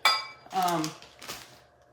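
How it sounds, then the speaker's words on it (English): A spoon stirs yeast and sugar into milk, opening with a bright metallic clink against the container. A few softer tinkling scrapes follow nearby, along with a brief voice-like sound. "And just stir this up with the milk."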